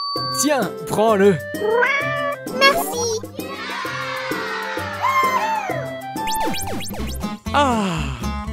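A cat meows again and again, with whiny, drawn-out cries and a longer caterwaul in the middle, close and loud, while a person speaks briefly between the calls.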